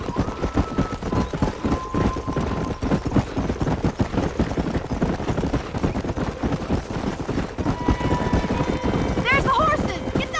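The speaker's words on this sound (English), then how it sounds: "There's the horses!" Horses galloping across open country in the Western game Red Dead Redemption, a dense rumble of hoofbeats mixed with game sounds and music, with people talking and calling out over it.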